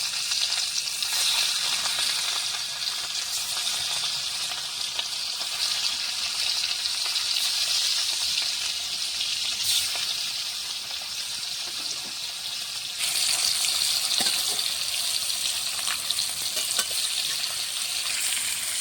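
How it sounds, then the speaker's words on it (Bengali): Marinated fish fries in hot mustard oil in a kadai, giving a loud, sustained close-up sizzle that surges briefly partway through, with occasional light utensil contacts and no one speaking. "তেল গরম হয়ে গেছে, মেখে রাখা মাছগুলো ভেজে নেব।"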